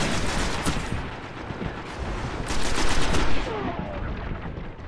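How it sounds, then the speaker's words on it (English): Gunfire in Destiny multiplayer, with bursts of rapid shots from several weapons rising and falling over a busy game background, loudest toward the middle before it thins out. "Three people shooting at that dude."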